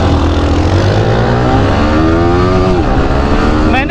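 Yamaha R15 motorcycle accelerating hard in a short race against a Pulsar 220, a loud close engine note climbing steadily in pitch through the gears, with a fresh rise near the end as another gear is taken.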